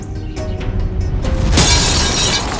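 Glass falls and shatters in a loud crash, a few sharp clinks leading into a sustained burst of breaking fragments, no voices.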